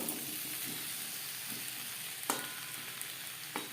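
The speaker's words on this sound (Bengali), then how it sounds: "কচুর সাথে টমেটো বেশ ভালো করে কুক করে নেব" Pieces of taro and tomato sizzle in a pan, a steady, fairly quiet hiss of frying with two brief clicks of a utensil against the pan.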